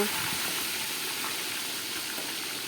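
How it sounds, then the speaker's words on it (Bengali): Bhetki fish fries in hot mustard oil, giving a steady, even sizzling hiss that carries on without a break and sits close and moderately loud. "মাছগুলো আমি খুব কড়া করে ভাজবো না জাস্ট এপিট ওপিট করে হালকা করে ভেজে নেব"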